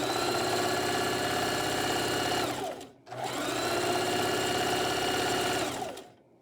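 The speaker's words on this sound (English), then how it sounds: "You're going to put the presser foot down and we can begin sewing." A sewing machine stitches fabric pieces for a basic face mask, running at a steady fast whir in two long bursts with a brief pause between, close and loud with no talk.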